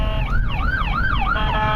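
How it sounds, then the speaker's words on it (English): An ambulance siren wails in a rapid rising-and-falling yelp as it passes a moving car, loud and close, heard alone without speech. "there is an ambulance going by"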